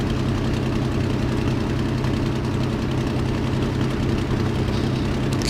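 Simulated Messerschmitt Bf 109G-6 engine idling just after start in Microsoft Flight Simulator: a steady, loud low rumble with a faint uneven knock, holding constant throughout with no voices.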